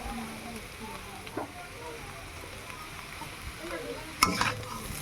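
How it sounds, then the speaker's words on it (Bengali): Chow mein is stirred in a hot pan with a soft, low sizzle and occasional scrapes, ending in a brief louder burst of crackling and clatter. "চাউমিনটা দিয়ে নাড়াবো।"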